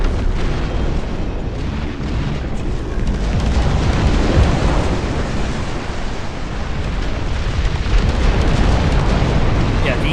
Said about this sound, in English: Oh, they've got an artillery piece out there.